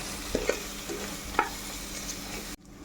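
Tomatoes frying and being stirred in a pan for chicken curry: a continuous sizzle with a few scraping knocks of the spoon against the pan, ending abruptly.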